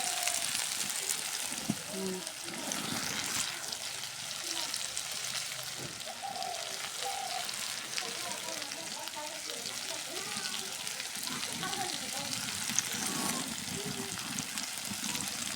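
Sweet pumpkin bhaji being turned and stirred in oil in a pan, giving a steady, close sizzle with scraping stir strokes throughout, and no talk.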